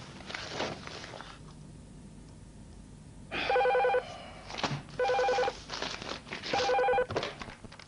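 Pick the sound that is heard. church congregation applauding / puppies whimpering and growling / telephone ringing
telephone ringing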